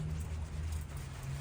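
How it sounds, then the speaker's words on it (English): Steady, soft rain falling outdoors beside a square-body truck being worked on, with a continuous even hiss of drops and a low rumble underneath, no talking. "It's starting to rain."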